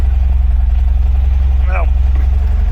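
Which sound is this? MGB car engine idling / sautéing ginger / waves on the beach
MGB car engine idling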